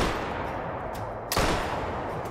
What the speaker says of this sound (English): the first shot might have been a tad bit high, but the second shot should have connected